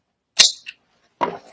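Gunshots fired by a homeowner during a recorded shooting in a house, two sharp cracks about a second apart, each short and fairly loud, with silence around them.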